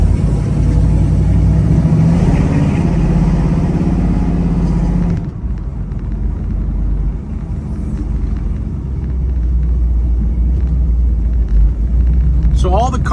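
A restored 1969 Chevrolet Camaro SS idles with a loud, deep rumble that drops off partway, then settles back into a steady low burble, heard up close.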